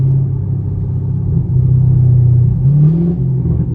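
A 500 hp catless Camaro SS engine rumbles loud and close, revving and accelerating steadily with a deep, throaty drone that rises in pitch toward the end, with no talk.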